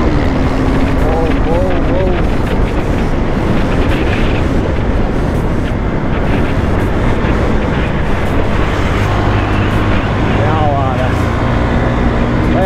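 A KTM Duke motorcycle engine drones steadily while riding on the road, blended with heavy wind rush and traffic noise, while someone talks over it throughout.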